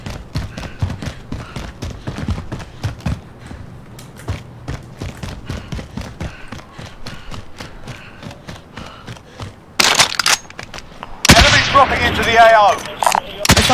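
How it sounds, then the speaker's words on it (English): Assault rifle fire in Call of Duty: Warzone comes as a long run of rapid, sharp shots in uneven bursts. It grows louder and denser near the end, with voices talking intermittently underneath. "Assault rifle."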